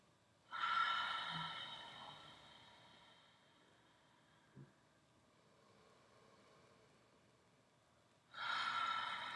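Two long, deep breaths, each a loud close breathy rush lasting several seconds with a quiet pause between them, and a soft click in the middle.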